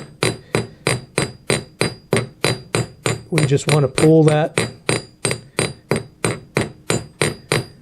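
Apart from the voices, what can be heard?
hammering metal bracelet on anvil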